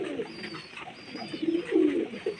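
Pigeons coo in soft, low, rolling calls, several in close succession, fairly near but quiet, over a faint background hum.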